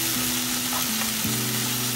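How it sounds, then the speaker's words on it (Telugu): Ginger paste frying for a vegetarian gongura curry hisses with a steady, loud, close sizzle while a utensil stirs it in the pan, no voices. "ఇప్పుడు మనం మళ్ళీ మిక్స్ చేద్దాము"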